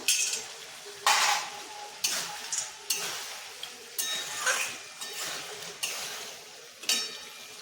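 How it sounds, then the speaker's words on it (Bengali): Fried lentil dumplings go into a mixed-vegetable labra curry and are stirred, with a spoon scraping and clinking against the pot about once a second over a soft, continuous sizzle. "এখন আমি এই ভাজা বড়িগুলো দিয়ে দেবো"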